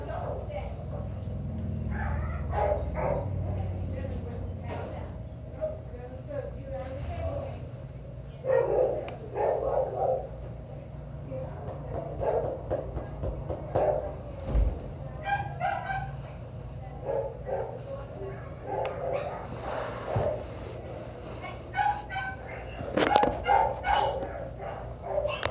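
Wrigley, a dog at the vet, barks in scattered bursts and short yips across a long stretch inside the clinic, fairly faint and mixed with people talking nearby.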